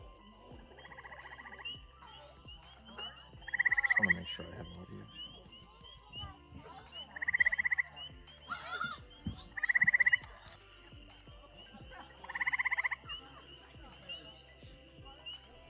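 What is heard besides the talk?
eastern gray tree frogs calling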